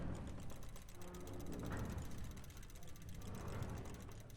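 Winding key turns in The Room Three video game, a soft continuous ratcheting click of gears and a mechanism running steadily under faint low background hum.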